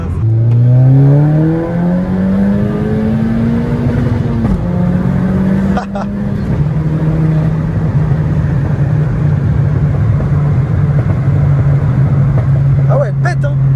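A stock-type VW Golf 5 GTI with its K03 turbo, tuned close to Stage 3, revs up over a few seconds and then holds a steady, loud drone. A couple of sharp cracks come through, and voices murmur faintly underneath.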